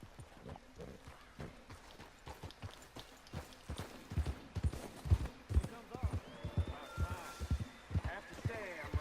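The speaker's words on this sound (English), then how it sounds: "Oh, this is Bill's horse" Horse hooves clip-clop in the Red Dead Redemption 2 video game, a rhythmic run of thuds that grows louder and denser over several seconds, mixed with game sound and a voice speaking.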